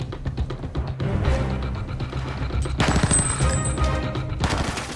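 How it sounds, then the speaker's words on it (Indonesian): Gunfire from a shooting practice session behind a factory in a film. Rapid bursts of shots sound close and loud, a fairly steady rattling fusillade with a brief pause before a denser volley. "Tapi karena mereka juga latihan menembak"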